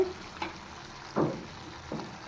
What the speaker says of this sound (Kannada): ಚೆನ್ನಾಗಿ ಫ್ರೈ ಮಾಡಬೇಕು ಈಗ ಉಪ್ಪು ಸೇರಿಸ್ತಾ ಇದ್ದೀನಿ ಚೆನ್ನಾಗಿ ಮಿಕ್ಸ್ ಮಾಡ್ಕೋಬೇಕು